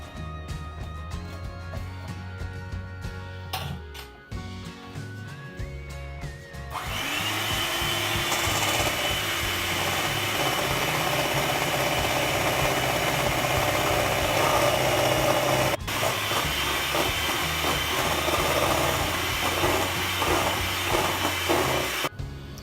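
Double cream being whipped to soft peaks for a no-bake mango cheesecake, an electric mixer starting partway in and then whirring loud and steady without a break to the end.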